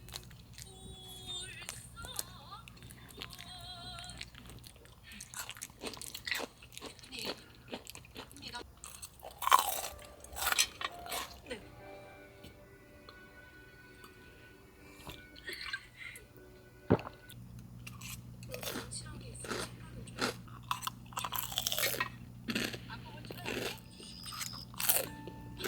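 Close, irregular crunching and chewing of food at a winter solo campsite on Ganghwa Island, with bursts of loud bites and wet mouth sounds scattered across the clip over a steady low hum.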